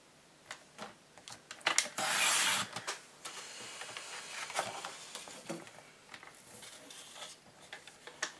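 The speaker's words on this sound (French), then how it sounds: "Donc on va découper un morceau de 5 cm par 8." Scissors cut a 5 by 8 cm piece of craft material for a home decor project, giving a brief scraping, rasping burst among light ticks and taps, close and with no talk.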